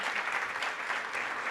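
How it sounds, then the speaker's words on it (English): Brief burst of audience applause at a conference stage session, dense clapping from a sizable crowd with slight swells, no speech over it. "can I ask you for a round of applause for our 3 great companies?"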